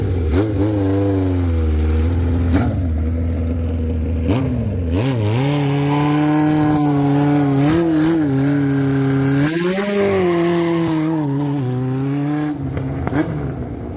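A 1976 Kawasaki KZ900 motorcycle engine, carbureted and loud up close, idling rough then revving up and down in several swelling pulls before settling back, with no talking.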